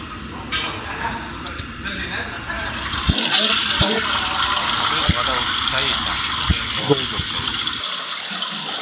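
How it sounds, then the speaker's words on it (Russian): A toilet flushes with a rising rush of water that continues strongly for several seconds, while people talk nearby. "Показывает работу унитаза за 160 долларов"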